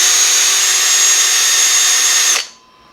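A power drill with a dull bit whines loudly at a constant high pitch for about two seconds while boring a hole in a Philips DreamStation 1 CPAP machine, then cuts off abruptly and spins down into near silence.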